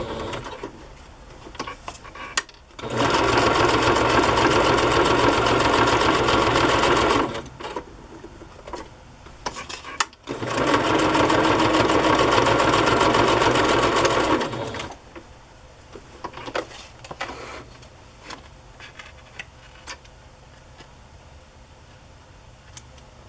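Sewing machine stitching a paper music-journal tag: two long steady runs of fast, even whirring stitches, each several seconds long, separated by pauses filled with faint handling noises.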